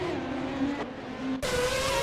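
A BMW Sauber F1.09 Formula One car in a race, its high-pitched engine whining steadily, then cutting sharply to a different higher gear note, close and loud.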